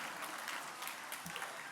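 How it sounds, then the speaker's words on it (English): Audience applause at a high school pitch night for the teams' pitches; a steady, fairly faint wash of clapping throughout. "we got to give one more round of applause for those amazing pitches we saw here today"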